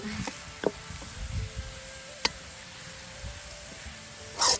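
Garlic frying in a pan gives a steady low sizzle with a few soft stirring knocks and a brief louder burst near the end, without any talk.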